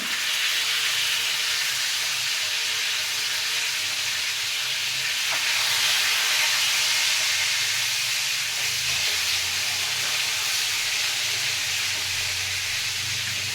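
Fish pieces frying in a pan of hot oil, a steady dense sizzle that stays close and even throughout without talk.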